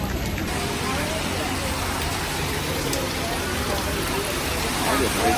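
Heavy monsoon downpour in Hanoi, a steady broadband hiss of rain on street and surfaces that holds even and close throughout, with faint people and activity in the background.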